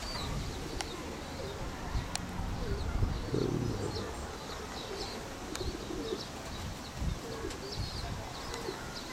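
Kherson pigeons coo softly and intermittently at moderate distance, with occasional wing flaps and faint chirps over a quiet outdoor background; brief low speech occurs faintly.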